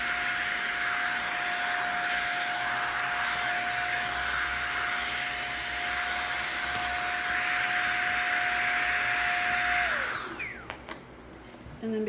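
A vacuum cleaner draws the air out of a storage bag packed with a king-size bedding set, a loud steady whine with a high tone holding for ten seconds before the motor shuts off and winds down.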